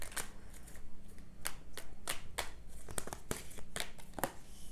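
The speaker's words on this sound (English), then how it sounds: "I'm going to really shuffle real good" Tarot cards being shuffled vigorously by hand, a series of crisp riffling bursts at an irregular rhythm, close and fairly quiet, with no talking.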